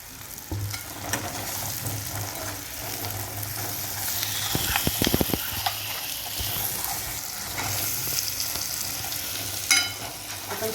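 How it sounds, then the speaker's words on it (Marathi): Brinjals sauté in a spicy masala for stuffed bharli vangi, a soft continuous sizzle with occasional scraping stirs and a burst of clattering spoon strokes in the middle. "मसाल्यामध्ये छान वांगे आपल्याला परतून घ्यायचे आहेत"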